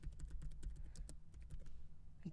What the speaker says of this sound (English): again, I'm typing the print statement